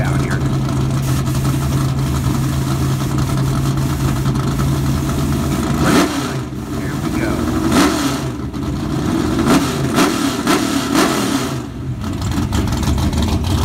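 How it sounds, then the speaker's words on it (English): A 1969 Chevrolet Camaro drag racing, its engine roaring loud and steady before surging through several revving bursts, with crowd and track noise around and a commentator talking. "Roddy seems to make it power with that 69 Camaro and get the brakes down here."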